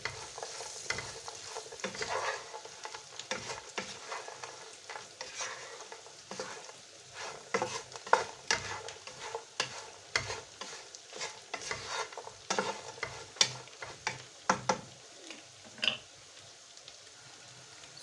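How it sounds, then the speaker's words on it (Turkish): Cooked liver and potatoes being stirred in a pan off the heat, quiet irregular scraping and clattering stir strokes with a faint underlying sizzle, no talk. "pişirmiş olduğumuz ciğer ve patatesleri ilave edelim. Güzelce karıştıralım."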